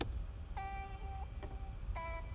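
A vocal chop processed through a Crystallizer effect, glassy with shimmering harmonics, played in two short bursts over a low rumbling bed; no one speaks.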